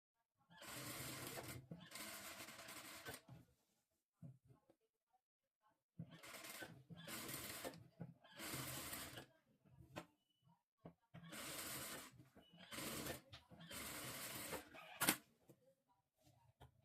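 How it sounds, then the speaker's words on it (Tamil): Sewing machine stitching the front of a dress made from a saree, running in several bursts of a few seconds each with short pauses between, close and fairly loud. "இப்போ ஃப்ரண்ட்டுக்கு நான் ஸ்டிச் பண்ணிக்கிறேன்"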